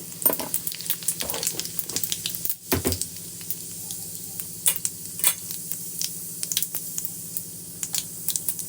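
Cumin seeds and asafoetida frying in oil make a soft, steady background sizzle broken by scattered crisp pops and crackles, with a brief dull knock partway through and no talking.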